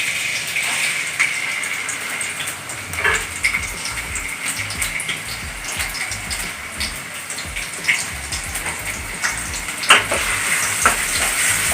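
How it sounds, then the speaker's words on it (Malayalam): Chopped ginger and garlic hit hot oil in a pan for a green beans curry, raising a loud, close sizzle with a bright hiss and intermittent sharp crackles and spatters that continue steadily, with no speech. "അപ്പം നമ്മുടെ നുറുക്കി വെച്ച ഇഞ്ചി വെളുത്തുള്ളി ആദ്യമായിട്ട് കൊടുക്കാം"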